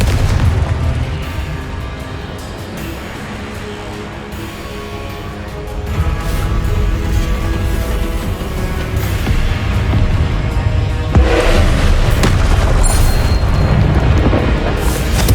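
Repeated Confringo blasting-spell explosions in the Hogwarts Legacy video game, a loud, dense stream of booming blasts that swells louder in the second half, with no talk.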